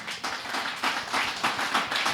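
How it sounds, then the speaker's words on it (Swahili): Audience applause for panelists at the close of a mental health panel discussion at a youth camp, sustained clapping from a crowd with several swelling bursts, no voices over it. "Wapigeni makofi tafadhali."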